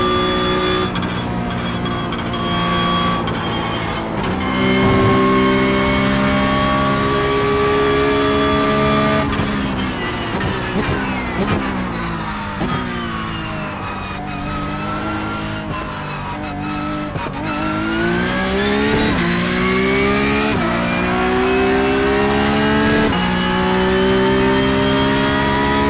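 Porsche race car in the iRacing sim, its engine revving hard and shifting through gears with tonal whine rising and falling, brief tire scrub in corners, loud and continuous throughout.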